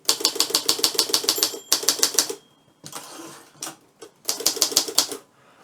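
An Olympia Progress manual typewriter typing in fast bursts of crisp key strikes, with brief pauses and a few scattered clacks between runs, heard close and alone.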